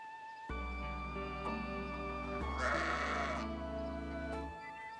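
A sheep in Fire Emblem Engage lets out one long, wavering bleat that carries for several seconds over the game's soft background music.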